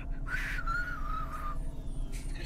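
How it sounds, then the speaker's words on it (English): A character in the video game Cloudpunk whistles a short, wavering, slightly off-key phrase with a couple of breaks, over a low, steady background hum. "I can't even whistle in tune."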